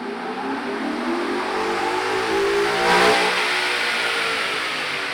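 Ford Mustang fitted with a Power Pack 3 kit revving on a dyno, a sustained engine roar that climbs to a peak around the middle before easing slightly, with no talk over it.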